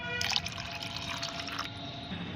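Plain water poured into a homemade plant fertilizer mix, a steady splashing fill that is strongest at the start and keeps running evenly close by, with no talk over it.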